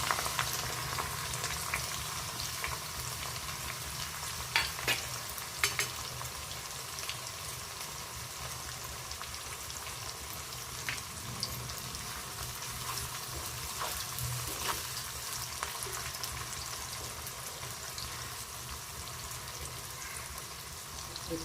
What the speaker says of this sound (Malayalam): സവാള പൊരിക്കട്ടെ.